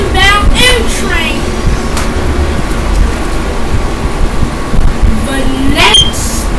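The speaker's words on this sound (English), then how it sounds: "I'm gonna see the freaking M train passes the station very fast." A simulated MTA M subway train in Roblox roaring through a station at speed: steady loud rumbling, rail hum and whooshing noise, with tonal whines rising and falling, under a voice speaking intermittently.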